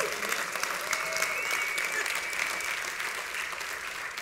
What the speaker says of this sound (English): I think that's something we need to clap for.